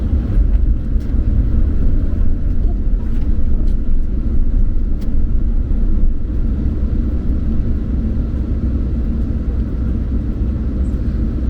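Cars rush past on a freeway in a steady, loud rumbling stream of passing traffic that lasts throughout, with no talk over it.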